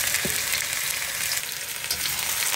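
Washed arvi (taro root) stir-fries in about a quarter cup of hot oil over a very high flame, giving a loud, steady, dense sizzle that fills the short stretch, with faint stirring underneath and no speech.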